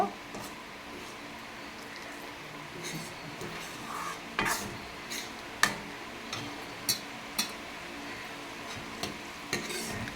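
Katla fish curry bubbling and coming to a boil in a pan, a soft steady simmer with scattered sharp ticks and pops, some louder clinks at irregular intervals.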